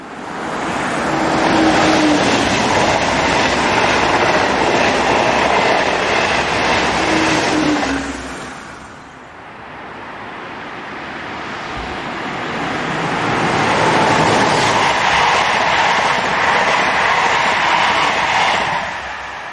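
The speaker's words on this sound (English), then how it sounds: "A Class BB 22200 electric arrives with a westbound intermodal." An SNCF Class BB 22200 electric locomotive hauls a westbound intermodal train past near a road bridge, a loud close rush with rolling wheel noise, a brief dip midway, then building again.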